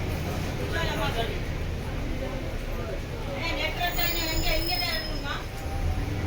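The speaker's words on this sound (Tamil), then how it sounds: "Chennai airport metro." Steady low rumble and rattle of a Chennai Airport metro train in motion, with faint voices and a brief high squeal partway through.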